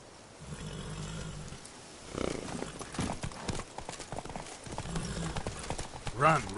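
Roach, a horse in The Witcher 3, gallops with rhythmic hoofbeats under game dialogue and ambient sound, the clatter growing louder toward the end.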